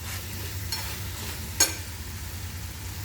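Ridge gourd being stir-fried in a pan, a steady low sizzle with a couple of soft stirring scrapes and one sharp spatula clank partway through, no talking.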